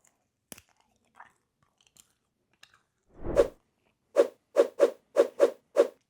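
A thick slice of dehydrated apple is bitten and chewed close up, with one softer bite followed by six sharp, evenly spaced dry crunches.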